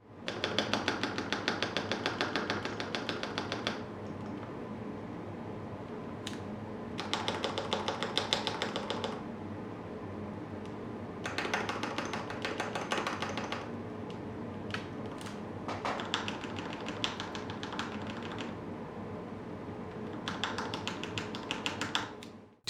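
Mechanical keyboard being typed on with rattling Everglide V1 stabilizers, a close, quiet stream of clacky taps in bursts, with some louder key strikes sounding slightly hollow and rattly.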